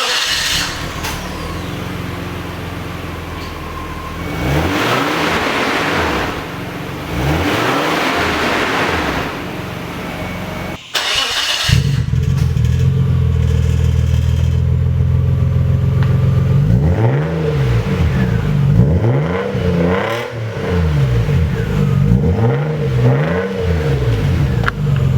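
A Nissan R33 Skyline fitted with an HKS exhaust revs repeatedly, the engine climbing and falling in several loud, close sweeps with a brief break midway, no talking.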